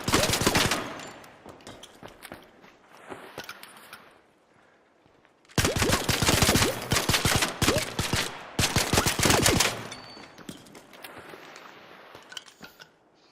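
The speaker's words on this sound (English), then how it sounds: "about the fastest I can shoot. I think that's basically the max rate of fire if I'm just trying to unload bullets as quickly as possible" Rapid bursts of gunfire at a shooting range in the video game ARC Raiders, two long dense volleys of shots at maximum fire rate, loud and close, separated by quieter scattered shots.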